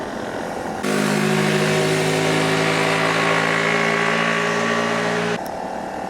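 Honda CRF250 Rally motorcycle engine droning steadily at close range during a ride, a loud sustained tone that starts abruptly and cuts off near the end.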